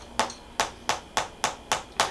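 A chiropractic adjustment hammer strikes a patient during a spinal treatment, seven sharp, evenly spaced taps about a third of a second apart, close and crisp with no talk.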